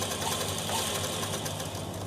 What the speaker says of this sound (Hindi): तो चलिए अब हम इस पर एक सिलाई चला लेते हैं।